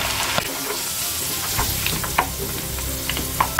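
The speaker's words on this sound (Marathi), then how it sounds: "बटाटे फ्राय करून घ्यायचे. बटाटे फ्राय व्हायला जरा वेळ लागतो." Potatoes frying in oil for Kathiyavadi undhiyu, a continuous close sizzle with occasional clinks and scrapes of stirring, no voices.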